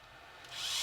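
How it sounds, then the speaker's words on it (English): Small short carbide bit drilling 2mm mounting holes in a thin plate, a brief quiet whir that rises sharply in pitch and loudness as the drill spins up. "Drill them out 2mm."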